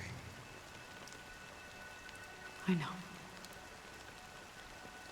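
Steady rain falls in the video game Honkai: Star Rail, a constant hiss throughout, with a brief spoken line partway through.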